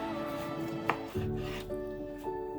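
A tomato is rough-chopped on a cutting board with a few distinct, close knife strikes against the board, a quiet hum underneath and no talking.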